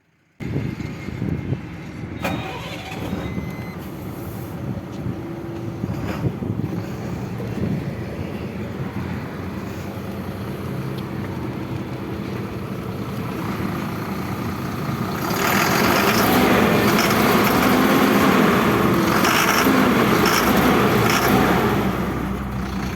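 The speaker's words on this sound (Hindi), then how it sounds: "और अभी इंजन को स्टार्ट कर इंजन के साउंड सुनाएंगे।" The heavy diesel engine of an Ashok Leyland 1920HH BS6 six-wheeler truck rumbles steadily at close range, growing louder and rougher near the end as the revs rise.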